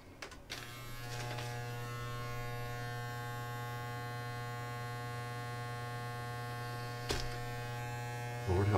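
Electric trimmer buzzing steadily while cutting a long-grown beard, a close, constant motorized hum with a couple of brief clicks and rustles as it works through the hair.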